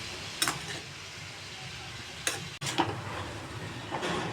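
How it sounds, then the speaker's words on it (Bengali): Red amaranth greens being stirred with salt in a wok, giving a quiet, soft scraping and rustling with a few sharper strokes at irregular intervals over a faint sizzle. "শাকটাকে একটু ভালো করে নাড়াচাড়া করে দিতে হবে"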